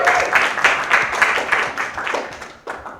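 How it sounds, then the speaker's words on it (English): A church service audience cheers and applauds together, with fairly loud uneven clapping and a few whoops that fade out toward the end. "let's get a cheer for the blessing"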